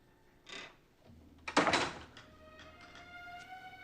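A door is shut in an indoor room, with a soft knock near the half-second mark and then a louder thump and latch around 1.5 seconds, followed by a faint ringing tail.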